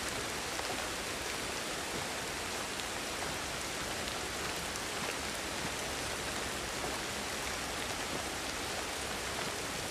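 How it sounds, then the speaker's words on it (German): Steady rain in the video game Ancestors: The Humankind Odyssey hisses continuously, an even, soft wash of falling drops with no voices or other sounds. "Jetzt regnet es zum Beispiel."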